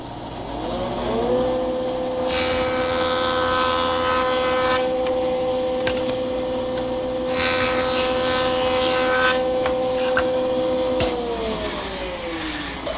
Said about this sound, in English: I'm going to turn to my joiner, where I've taken the guide fence and tipped it 45 degrees from vertical